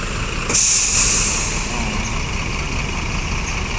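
An LBJ Transport intercity bus idles with a steady engine rumble. Early on, a loud burst of air-brake hiss comes up and slowly fades back into the idle.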